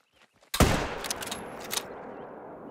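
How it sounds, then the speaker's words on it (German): One loud, sharp rifle shot fired at an elk at about 250 metres from a prone position in theHunter: Call of the Wild, then a long rolling echo. Faint quiet sounds come just before the shot. "da glaube ich auch ein ganz guter Schuss drauf gewesen"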